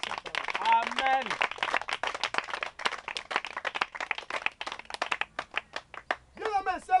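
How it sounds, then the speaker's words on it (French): A church congregation claps steadily at a sermon, many hands together in a dense, continuous patter. A voice speaks over the applause near the start and again at the end. "Est-ce qu'on peut acclamer pour cette parole?"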